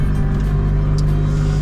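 Microcar Dué Must Progress license-free microcar engine droning steadily from inside the cabin while driving, a loud, constant low rumble with no talk.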